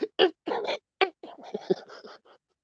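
A voice mimics a puppy's whimper in a string of short, high, whiny yelps and whines, close and fairly loud.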